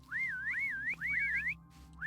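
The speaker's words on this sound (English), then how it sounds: "Being chased by whistles." Whistles from the video game StoneBlock 3: a series of clear, wavering tonal whistle phrases that sweep up and down in quick loops over a low steady game drone, alone with no talk.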